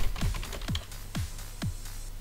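A new computer keyboard gives four evenly spaced, dull key thumps, each about half a second apart, close and fairly loud with no voices.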